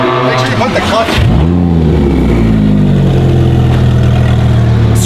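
Lamborghini Huracan race car engine cranking and catching at about one second, then revving and settling into a loud, steady idle.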